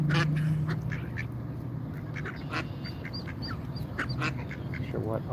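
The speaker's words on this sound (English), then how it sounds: "curl duck down here is making a lot of noise at us." A duck quacks repeatedly in short nasal bursts at a Washington DC protest, fairly close, over a steady outdoor background with a low hum.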